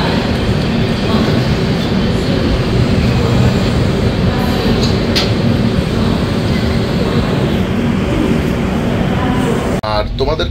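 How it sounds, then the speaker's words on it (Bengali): A train pulls into platform 4 at Malda Town station with a loud, steady rolling rumble and rail noise throughout, and a brief sharp squeal near the middle. "4 নম্বর প্ল্যাটফর্মে ট্রেন দিল।"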